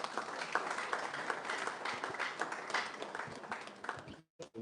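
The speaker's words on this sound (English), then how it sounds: "Let's celebrate it with a clap." A crowd at a political aspirants summit claps to welcome an honorable guest, a busy, moderately distant patter of hands that fades out abruptly near the end.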